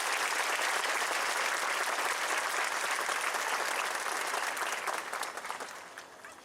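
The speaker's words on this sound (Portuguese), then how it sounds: "Então uma salva de palmas, seja bem-vindo, Dom." A congregation at a Catholic Mass in a parish church applauds warmly to welcome the Archbishop of Paraíba, a steady crowd of clapping that holds strong, then thins and fades toward the end.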